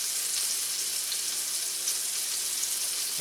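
Butter and olive oil sizzle and spit steadily in a hot pan, a constant bright crackling hiss with no voices.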